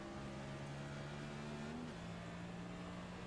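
A race car engine in a racing video game on the Talladega oval drones steadily, with a drop in pitch near the midpoint as it shifts gears, constant and fairly loud with no talk.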